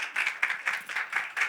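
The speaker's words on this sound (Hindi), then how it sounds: "लेकिन पहले एक बार जोरदार तालियां" Applause at the grand launch event of a television serial, with a crowd clapping steadily in quick, dense bursts at moderate loudness and no talk over it.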